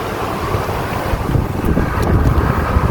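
Strong wind in Japan buffets the microphone in a continuous roaring rush, loud and close, with no voices.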